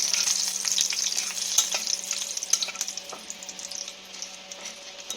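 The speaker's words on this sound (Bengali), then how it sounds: "দুটো শুকনো লঙ্কা দিয়ে এটাকে আমি একটু ভেজে নেব" Whole black peppercorns, cloves, cardamom and dried red chillies fry in hot oil with a bright, close sizzle and scattered crackles and stirring taps, fading slightly over the seconds; no one speaks.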